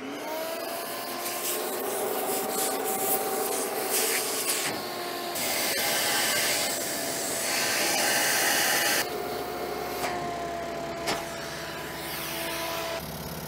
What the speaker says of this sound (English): I might kick the vacuum on and then introduce some compressed air in there to kind of blow everything around